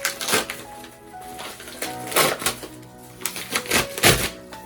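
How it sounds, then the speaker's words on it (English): Bubble wrap packing material being torn and peeled apart, giving several bursts of crackly, crinkly tearing at an irregular rhythm, close and moderately loud with no talking. "So you can tear your bubble wrap, and the other side is the one that you need."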